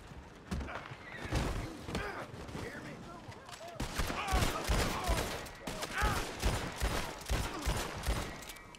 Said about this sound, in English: maybe I should just use my pistols, my dual wields